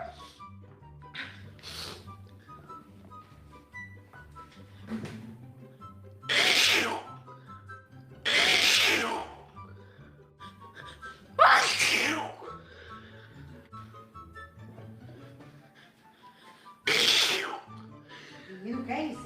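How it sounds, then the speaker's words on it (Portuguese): A person has a repeated sneezing fit: several loud, sharp sneezes scattered through the stretch, with quieter breathing and murmuring between them and nearby voices around. "Não espirre em cima de mim, não."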